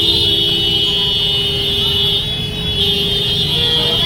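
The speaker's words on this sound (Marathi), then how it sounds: "अरे बघू शकता ट्रॅफिक जाम" Congested city traffic in Nanded, a steady loud wash of idling and creeping cars and motorbikes with a sustained horn-like tone running through it for several seconds.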